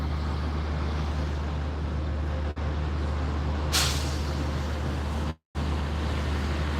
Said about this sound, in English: See a few of the tour buses coming through now.